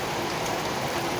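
The first summer rain pours down in a dense, even hiss that stays constant and close throughout, with no voices over it.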